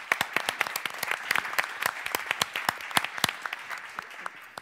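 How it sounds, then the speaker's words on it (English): An audience at a panel session on a conference stage applauds with dense, continuous clapping that stays fairly steady for several seconds before thinning slightly at the end. "let's give a big round of applause to all our panelists here"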